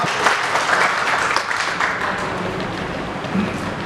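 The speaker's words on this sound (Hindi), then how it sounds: "जोरदार ताली से स्वागत" Audience applause welcoming a guest onto the stage at an honour ceremony at an IAS academy in Dehradun, a dense, steady crowd clapping that runs throughout and eases slightly toward the end.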